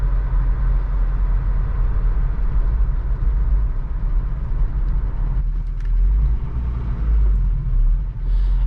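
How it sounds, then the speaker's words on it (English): A 1985 Toyota pickup truck drives with its manual stick shift, its engine rumble steady and loud throughout, with a brief dip and change in tone as gears are shifted partway through. "it's a lot of fun rowing through the gears in this truck"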